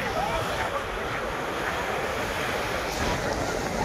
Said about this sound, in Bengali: জলটা নামছে, তো জল এদিক সেদিক টেনে নিয়ে যাচ্ছে।